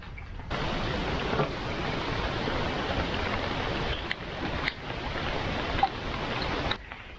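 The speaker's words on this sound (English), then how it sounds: "It is raining again." Steady rain hisses continuously at a campground in Coleman State Park, New Hampshire, a broad soft wash of drops with a few faint clicks, fairly quiet and even throughout with no voices.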